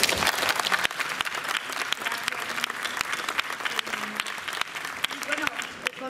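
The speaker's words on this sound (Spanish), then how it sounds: "por eso ella merece un gran aplauso" Audience applause at a book fair panel on organized crime, a dense sustained wash of many hands clapping for the full stretch, steady and fairly loud with a few sharper claps standing out and no break.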